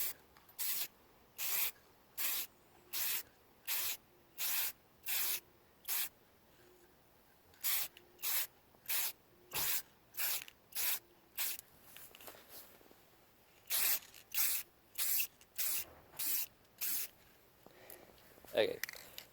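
Short bursts of aerosol tint being sprayed onto the tail lights of a 1992 Jeep Cherokee XJ, about two dozen close hissing puffs in quick rhythmic groups with brief pauses between sets.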